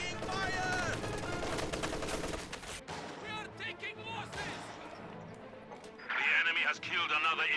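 Heavy mortar and gunfire in a World War II strategy video game: dense bursts of shots and explosions roll on continuously, with someone talking over the battle and a louder crackling burst near the end.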